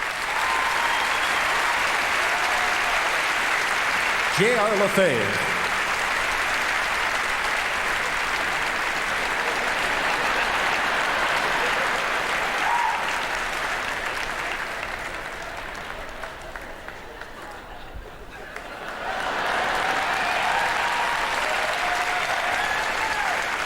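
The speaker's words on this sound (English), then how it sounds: "give yourselves a round of applause also" A crowd at the East Coast Music Awards 2000 gives long, loud applause that dips and thins near the end before swelling again, with a brief spoken name and some whoops rising above the clapping.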